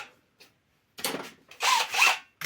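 A cordless screwdriver drill used during a Honda Giorno scooter repair gives short bursts of whirring, a brief rough run, then two longer louder buzzes close by.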